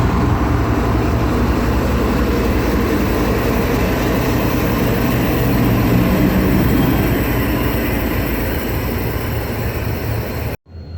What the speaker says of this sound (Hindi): एक और लाइट पावर आ रहा है जो कि है NLC का EMD लोकोमोटिव जिसका नंबर है 7225